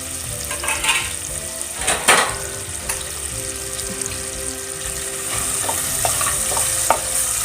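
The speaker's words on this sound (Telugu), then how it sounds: "ఎండు చేపలు వేసుకున్నామండి. కొంచెం ఇవి ఫ్రై చేసుకోవాలి." Dried fish frying in a pan over a medium flame, a steady sizzle with scattered crackles and a few louder scraping stirs near the start, close and continuous throughout.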